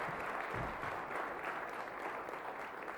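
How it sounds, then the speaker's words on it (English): An audience claps at a startup pitch competition finale, a dense, steady wash of applause from a crowd, fairly faint and distant, with no distinct voices. "Round of applause for TerraWaste."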